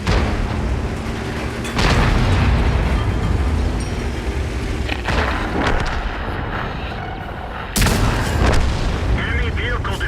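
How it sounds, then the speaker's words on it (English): A tank is destroyed in the World of Tanks video game: loud, booming explosions and artillery-like blasts with a dense rumbling background, including a sharp burst near the start and another powerful blast late in the clip. "Enemy vehicle destroyed."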